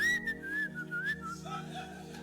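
A preacher whistles softly, imitating a father mourning in grief: one wavering, close whistled tone that rises and dips for about a second and a half, then trails into fainter breathy sounds with a low hum beneath.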